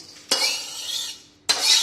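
Roasted dried coconut is scraped and tipped out of a wok into a large vessel, two sharp scraping, rustling bursts about a second apart with no talk.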